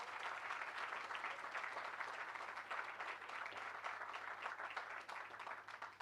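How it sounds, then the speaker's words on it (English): Steady, fairly faint applause from an outdoor crowd at a hospital construction topping-off event, continuous and even throughout with no voices over it. "Can we get a big round of applause for Portia and her work?"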